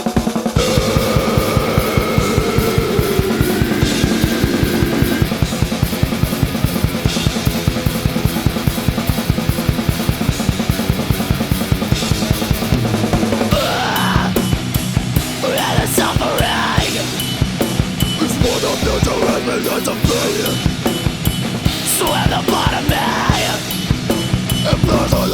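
A metal band's home demo recording with vocals: dense distorted guitars, pounding drums and shouted singing, loud and continuous, with the texture shifting midway into a busier section.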